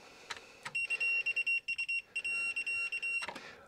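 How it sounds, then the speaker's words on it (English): A voltage indicator's continuity tester gives a rapid string of short, high electronic beeps, each cut off sharply, loud and close, with soft handling clicks before and after. "It was just that annoying, possibly beep from the continuity element of the voltage"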